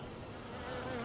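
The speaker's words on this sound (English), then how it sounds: "A lot of bees in this box." Honey bees in a hive box, a dense, steady buzzing hum close by, with no voices.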